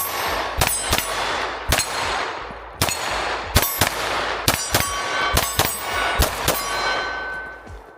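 A Ruger RXM pistol fires sharp, loud shots close by, mostly in quick pairs with short pauses between, each crack ringing out with a metallic clang.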